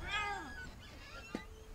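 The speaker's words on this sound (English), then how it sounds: "Yeah, it's a cat." A cat meows in What Remains of Edith Finch: one clear, rising-then-falling meow at close range opens the moment, then quiet game ambience and a soft brief click follow.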